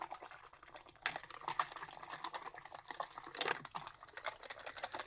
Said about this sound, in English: just shaking so there's not a lot of debris in it